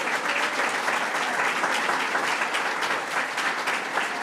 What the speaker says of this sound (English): Let's give a huge round of applause to Joe Cotter.